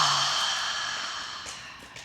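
A deep, slow exhale during yoga breathing, soft and airy, close to the listener, fading gradually over about two seconds with no talk.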